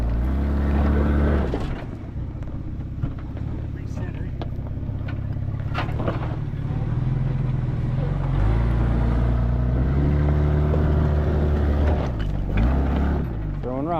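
A Toyota Tacoma truck idles and crawls over rough off-road terrain, its engine a steady low rumble that rises and falls. Scattered knocks and scrapes break through, and people talk over the engine.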